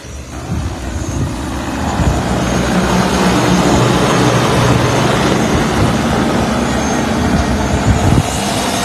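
An agricultural drone sprays fertilizer over a rice field, giving off a loud, steady whirring roar that runs unbroken for several seconds before easing slightly near the end.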